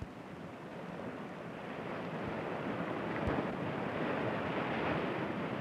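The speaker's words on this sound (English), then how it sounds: "Waves pound against the shore, washing bits of rock into the ocean." Sea waves pounding a rocky shore, a continuous low roar of surf that builds slightly, with some wind rumble and no speech.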